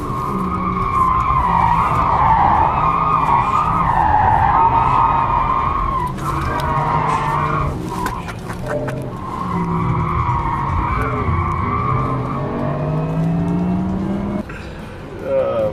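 A fast car brakes hard into a track turn, tires skidding and squealing loudly for several seconds, wavering and briefly easing before squealing again over the engine.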